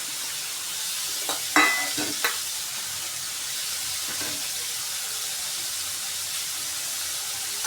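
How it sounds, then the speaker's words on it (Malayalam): Chopped garlic, ginger and green chillies fry in hot oil, a steady hissing sizzle throughout with a few brief spoon scrapes and clinks early on as they are stirred. "നല്ലവണ്ണം ഇളക്കി കൊടുക്കാം വെളുത്തുള്ളിയുടെ ഇഞ്ചിയുടെയും പച്ചമണം മാറുന്നത് വരെ നല്ലപോലെ മൂപ്പിച്ചോളൂ"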